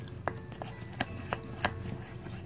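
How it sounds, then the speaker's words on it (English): Homemade slime with baking soda being stirred in a bowl for a Baby Alive Annie doll, giving a string of soft, sticky clicks and taps at an uneven pace, close and fairly quiet. "we're gonna stir"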